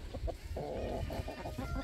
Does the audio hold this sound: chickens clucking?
yes